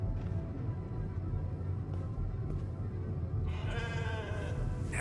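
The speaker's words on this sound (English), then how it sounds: "Never thought I'd be so glad to see a sheep." Sheep bleat from the video game The Alters over a constant low rumbling game soundtrack, with a brighter bleat rising toward the end.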